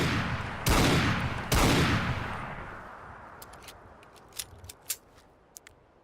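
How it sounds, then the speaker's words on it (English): Two loud, heavy gunshots from a modded Fallout 4 weapon on Xbox, each with a long reverberant decay, followed by a few sharp mechanical clicks and clacks from the gun. "Don't want to talk over the gunshots."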